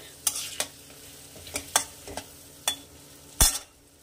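Chopped onions frying in butter in a pan over a gas flame, with faint sizzling throughout and several sharp clinks and scrapes of stirring spaced irregularly; no one speaks.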